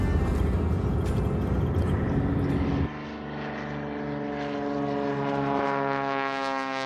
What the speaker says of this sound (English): pulling up to watch the seaplanes take off right on the water